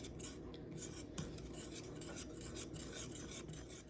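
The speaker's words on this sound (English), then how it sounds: "I'm going to give that a good mix." Bread dough ingredients with grapeseed oil, yogurt and salt being mixed in a bowl, a steady close scraping and rubbing of a utensil against the bowl, continuous and fairly quiet, with no voices.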